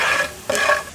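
Hot tadka of oil and red chilies hisses and sizzles loudly as it is poured onto dal mash, a short, bright crackling burst with no talking.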